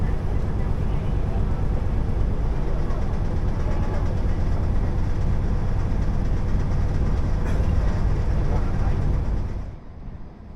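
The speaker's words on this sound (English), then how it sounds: "as our train wobbles its way out of the station" A train in Cambodia pulls out of a station with a loud, steady rumble and rattle of wheels wobbling along the rails, then the noise drops away abruptly near the end, with voices faintly present.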